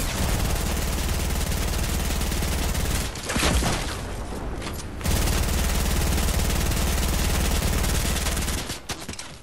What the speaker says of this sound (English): Oh, somebody's shooting from down there.